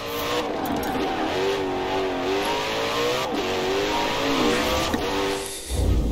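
A car engine in Forza Horizon 4 revs and climbs through gears while driving, a steady loud whine with pitch sweeps and brief dips, ending with a low thump.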